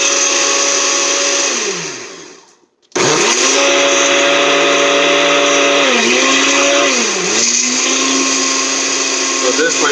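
A kitchen mixer whirs on high through sweet potato pie ingredients, a loud steady motor whine that drops briefly to silence, then restarts and holds with slight pitch dips.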